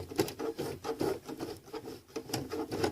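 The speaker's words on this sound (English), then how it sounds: "I'm just hand cranking the sewing machine one stitch at a time." Slow, irregular mechanical clicks and soft thumps of a hand-cranked sewing machine stitching, close and quiet, with faint rubbing between stitches.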